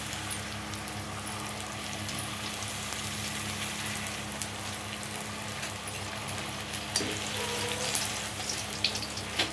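Puffing pani puri frying in hot oil, a quiet, continuous crackling sizzle like light rain that holds steadily with occasional small pops.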